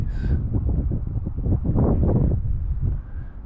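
Gusty wind buffets the microphone with low, rough rumbling bursts that swell and ease over a few seconds.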